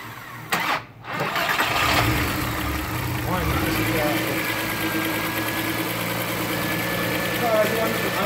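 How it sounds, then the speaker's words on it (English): A Volkswagen MK4 VR6 12-valve turbo engine on a standalone setup cranks briefly and catches, then settles into a steady, slightly rough idle; a person talks over it. "Watch it start up."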